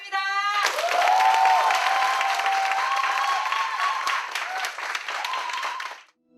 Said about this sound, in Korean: 박수소리 진짜 작네요